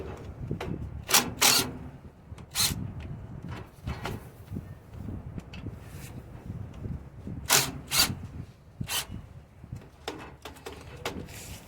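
Allen wrench working a 1/2-inch bolt on the quick release brake air valve of a Freightliner truck, giving a series of sharp ratcheting and scraping clicks in short bursts over low shop rumble, close up, with no talking.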